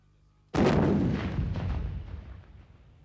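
Croatian army artillery guns fire near Vukovar in 1991, one close, loud blast that opens abruptly and then rolls and echoes away over a few seconds.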